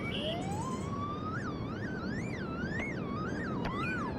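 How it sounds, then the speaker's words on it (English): Wailing police car siren from the video game Streatham Hill Stories, rising and falling in repeated sweeps over a steady hiss, loud and continuous throughout with no talking. "Is that the police car? Are the police after me?"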